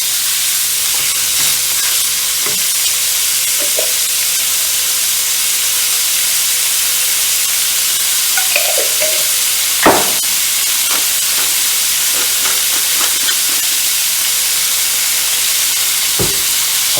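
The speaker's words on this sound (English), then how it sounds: "first thing you want to do is brown your ground beef" Ground beef browns in a pan, giving a steady loud sizzling hiss throughout, with occasional utensil scrapes and clicks as it is stirred, close up and without talking.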